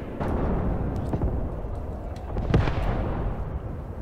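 Enemy mortar rounds landing in Tank Warfare Tunisia 1943 during the Chouigui Pass tank battle: a continuous low rumble of distant explosions, with one sharper, louder blast about two-thirds of the way through.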